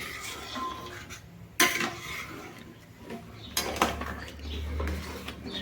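A metal pot of cow's milk being stirred while making bari: scraping and clinking of a utensil against the pot, with a few sharper knocks standing out against a low steady background.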